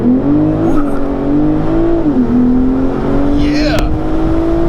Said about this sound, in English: Let's do a little launch start.